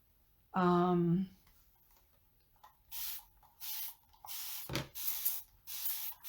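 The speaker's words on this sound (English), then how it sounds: "Spraying the adhesive side." A brief hum or voice-like tone, then several short hissing bursts of an aerosol spray adhesive can, each lasting under a second, close and repeated.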